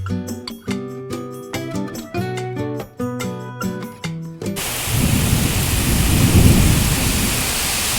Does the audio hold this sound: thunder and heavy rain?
yes